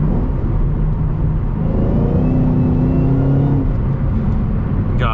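A 2014 Ford Shelby GT500 on its stock exhaust revving hard, a loud, close, sustained engine roar that climbs in pitch and then settles, with no talking.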